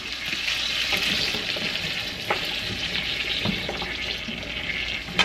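Green beans sauté with soy sauce and fresh garlic in a pan, a dense, steady sizzle with occasional clicks and scrapes of stirring, close and continuous.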